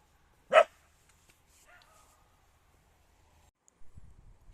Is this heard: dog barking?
yes